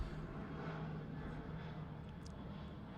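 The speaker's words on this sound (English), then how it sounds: "But this one here displaying is the very latest of the family of the Antonov aircraft," A distant Antonov An-178 transport aircraft performs a flying display at Farnborough airshow, its engine drone a steady, faint roar with a low hum underneath.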